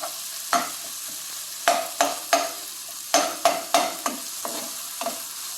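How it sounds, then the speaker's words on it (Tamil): Tomatoes sautéing with ginger garlic in a pan, a close sizzle broken by a dozen sharp spatula scrapes and stirs in an irregular rhythm. "பாருங்க தக்காளி நல்லா வதங்குது பாருங்க"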